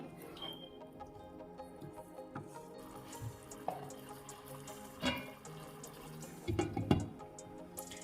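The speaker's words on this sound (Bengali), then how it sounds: "পরিমাণ মতো আমি জল দিয়ে দিলাম" Water poured into a cooking pot for a Bengali vegetarian dish, a steady trickling and splashing with scattered clinks of the vessel, ending in a slightly louder splash near the end.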